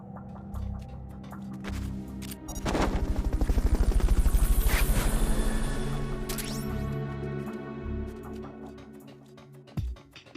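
A Fulton recovery helicopter in Metal Gear Solid: Peace Walker rises to a loud, steady rotor chop in the middle of the clip and then fades, with game effects before and after and a sharp thump near the end.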